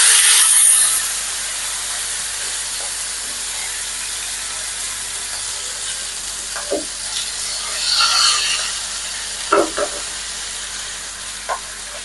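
Homemade chicken shawaya frying in a little hot oil, a loud continuous sizzle and hiss close by, with occasional stirring scrapes and small pops.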